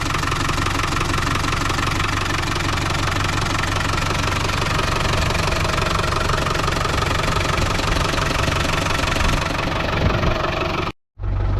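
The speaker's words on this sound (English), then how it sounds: "You just want a nice smooth sounding engine, no whistling, no noise from the bearings." Land Rover Defender 90 Tdi diesel engine idling, a close, loud, continuous clattering rumble with steady knocking rhythm, cutting off abruptly near the end.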